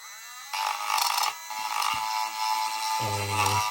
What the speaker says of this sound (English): I'm trying to just grind that out. So what I basically did was to use my Dremel